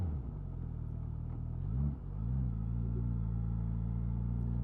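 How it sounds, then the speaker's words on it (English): A Suzuki GSX S1000GT motorcycle engine and exhaust while riding, a steady low droning rumble with wind noise, briefly rising and dipping in pitch near the middle as the revs shift, then settling back to an even cruise. "Giving a bike a bit of thrash, getting that exhaust note zinging in your ear hole."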